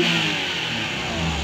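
Repaired Suzuki DA64V engine idling steadily and smoothly, loud and close with a continuous even hum and no shaking or surging, heard alone.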